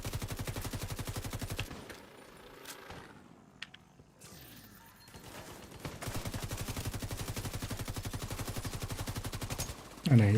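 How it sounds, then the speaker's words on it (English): A video game firefight against a chunky armor-plated Krampus enemy during a holiday event, with sustained rapid automatic gunfire that breaks off briefly in the middle, then resumes at full loudness. A voice talks over it. "Just mark a few enemies, shoot Krampus a bunch."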